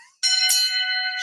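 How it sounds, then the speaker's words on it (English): A single bell strikes loudly and close, its bright ringing tone sustaining and slowly decaying after one sharp hit. "The shame bell."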